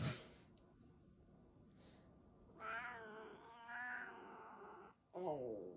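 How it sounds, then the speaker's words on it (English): Cat gives several drawn-out, mournful meows, each a wavering rising and falling cry, close and fairly quiet with short silences between them. "Oh, that's a sad meow."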